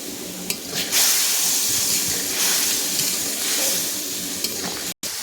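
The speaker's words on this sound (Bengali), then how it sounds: "এখানে আমি সামান্য পরিমাণ জল দিয়ে মশলাটাকে কষিয়ে নেব" Spice paste (masala) for an ash gourd and large prawn curry sizzles and hisses steadily in a pan with a splash of water, with occasional scrapes of stirring and a brief cut near the end.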